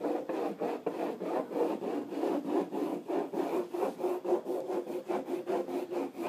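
Kong surf wax rubbed onto a surfboard in quick, rhythmic back-and-forth strokes, a close, dry scraping that repeats steadily about three to four times a second.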